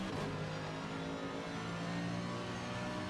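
A race car engine heard onboard in a racing sim at Watkins Glen, a steady mid-pitched drone with faint revving, quiet and continuous with no voices.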